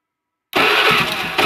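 A carbureted Honda Beat scooter engine cranks on its electric starter and catches, running loudly and steadily up close after a moment of silence.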